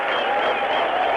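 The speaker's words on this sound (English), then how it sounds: "Standing ovation there for Javed Miandad." Dense, sustained crowd applause at a cricket match, a standing ovation for batsman Javed Miandad, a steady roar of distant clapping with no breaks.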